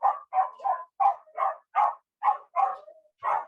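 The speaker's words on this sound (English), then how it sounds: "My dog is barking." A dog barks about ten times in a steady, evenly spaced rhythm, mid-pitched and fairly close, with no other sound between barks.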